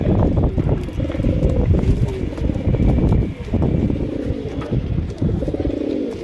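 Pigeons of a racing and fancy breed coo in a loft, low rolling coos repeating close by over rustling and shuffling.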